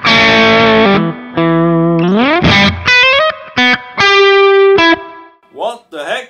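Tone City DP Durple distortion pedal with gain near minimum, played as a loud electric guitar line of held notes, slides and bends with mild crunch, ending in short quieter plucks.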